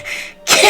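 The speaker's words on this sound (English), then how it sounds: "she's gonna cough" A woman gives a single short, loud cough, preceded by a breathy throat sound and a brief pause.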